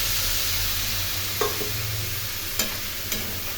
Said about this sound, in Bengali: এর মধ্যে সামান্য জল দিয়ে দিলাম।